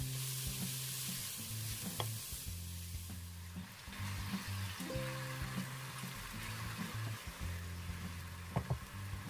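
Shiitake mushrooms sizzle and crackle in hot vegetable oil while a utensil scrapes and stirs them around the pan, with a soft background hum.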